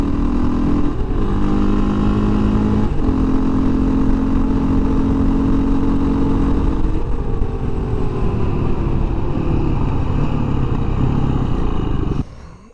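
A 2017 Beta 500 RR-S dirt bike engine runs loud and close at a steady throaty idle with slight pitch shifts, then cuts off abruptly at the end.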